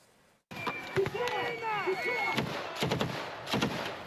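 Explosions and gunfire on a military training course for a mountain assault brigade, with loud sharp bangs and cracks spread across the clip and shouted voices mixed among them.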